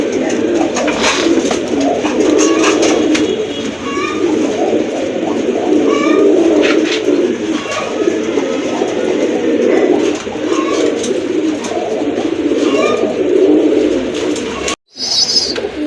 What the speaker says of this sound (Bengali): দেখেন প্রচুর ডাকে, যারা রাজগোল্লা খুঁজতেছেন এই জোড়াটা সংগ্রহ করে নিতে পারেন।